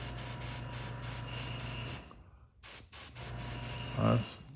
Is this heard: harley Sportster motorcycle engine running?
no